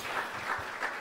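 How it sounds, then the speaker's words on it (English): A conference audience at a healthcare emergencies session gives a short, soft burst of applause, many hands clapping at once in a quiet hall. "And another round of applause because everyone stayed on time and we have time for questions."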